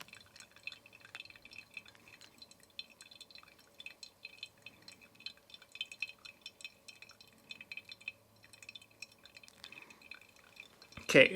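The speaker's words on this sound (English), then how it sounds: "use a droplet pour to push all the floating stuff down" Slow droplet pour of water from a kettle over finely ground coffee in a competition-style brew, a faint, steady trickle of small drips and splashes at close range, ending in a brief louder clatter.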